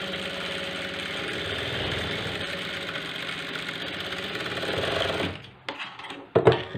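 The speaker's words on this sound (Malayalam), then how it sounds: "അരേഞ്ചിൽ മടക്കി ഒരു കാലിഞ്ചിൽ ഒന്ന് ഫുള്ളൊന്ന് അടിച്ചെടുക്കുക" A sewing machine runs steadily, stitching a folded blouse sleeve hem with a quarter-inch fold, humming continuously for about five seconds before stopping, followed by a few faint handling clicks.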